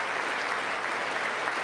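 Audience applause during a State of the Union address, a steady, dense wash of many hands clapping in a large hall, continuous and moderately loud with no voices over it.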